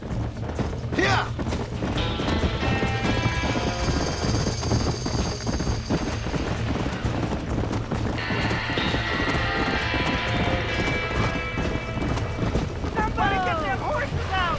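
Frightened horses trapped in a burning barn in the video game Red Dead Redemption, with high whinnies rising above a loud, steady roar of fire, clattering hooves and sustained tones, while voices shout nearby.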